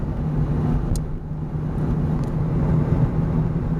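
A car drives through a small town with a low, steady engine and road rumble heard from inside. There are faint brief ticks but no talking.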